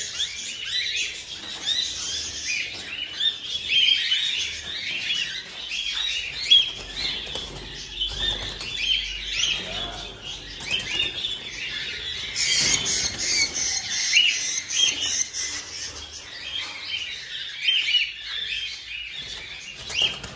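Birds taken at harvest fill the air with bright, continuous chirping and squeaks, mixed with fluttering and flapping of wings close by, steady and busy throughout.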